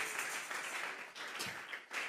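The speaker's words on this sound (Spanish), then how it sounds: "regálele ofrenda de palmas al Dios de la gloria" A church congregation claps in praise during a Spanish-language sermon, a quiet but continuous patter of many hands applauding together, slightly uneven in intensity, with a few stronger bursts near the end.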